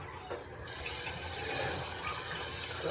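Water runs from a tap into a cup, starting abruptly after a brief pause and continuing as a steady splashing gush that is close and fairly loud.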